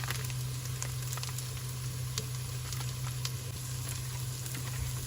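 Ginger garlic paste and karahi masala hit softened onions in a pan for chicken karahi, giving a steady, close, even sizzle that carries on without a break.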